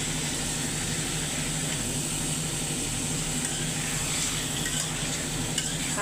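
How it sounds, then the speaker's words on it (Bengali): During a power cut, a generator runs loudly, a steady droning hum that fills the whole clip at an even level, with faint clatter and kitchen sounds near the microphone. "এখানে জেনারেটর চলে, অনেক শব্দ হইতেছে।"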